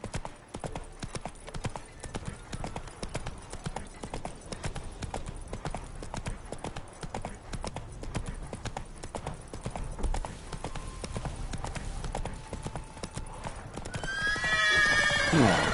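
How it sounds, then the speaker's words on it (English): Horse galloping in the video game The Witcher 3, rapid rhythmic hoofbeats thudding steadily throughout, ending in a loud whinny, with someone talking over the gameplay. "Run, Roach"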